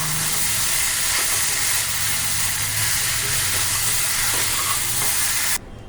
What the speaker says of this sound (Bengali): এবার একটু নাড়াচাড়া করে নামিয়ে নেব।